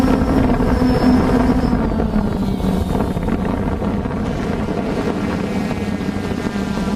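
A helicopter drone hovers over a university campus, its steady buzzing whir holding at a constant level throughout, with wind rumbling across the microphone and no voices.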